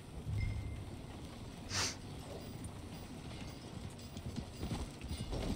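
Horse hooves clip-clop steadily in Red Dead Redemption 2 as a mare is ridden along, a continuous moderately loud trotting rhythm over a low ambient rumble, with a brief brighter swish partway through.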